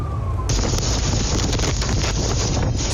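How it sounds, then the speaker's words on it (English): Roaring gusts of hundred-mile-per-hour wind during a wildfire with embers flying, buffeting the microphone in a loud, continuous rush that suddenly surges and stays harsh with no voices. "It's so windy. 100-mile-per-hour winds."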